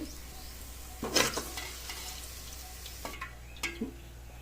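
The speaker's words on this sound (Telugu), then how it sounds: "ఇలా వేగితే సరిపోతాయి ఉల్లిపాయలు" Onions fry in a pan for egg biryani, a faint steady sizzle broken by a few clinks and scrapes of stirring close by, with no talking over it.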